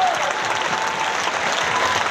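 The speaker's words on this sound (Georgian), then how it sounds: "მსმენელი კმაყოფილია და კონცერტის ბოლოს აპლოდისმენტები არ წყდება." Dense, sustained audience applause fills a concert hall at the end of a sold-out evening performance, loud and even throughout with no pauses.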